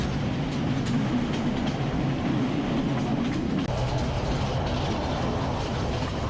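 A passenger train climbs through Sri Lanka's hill country toward a bridge and a lake, its continuous rumble and wheel clatter close and steady, as if heard from inside a carriage.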